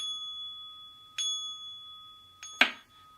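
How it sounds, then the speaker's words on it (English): A space clearing bell rings three times in quick, bright strikes in an office, each leaving a long, clear shimmering tone that hangs in the quiet room. "I have a space clearing bell"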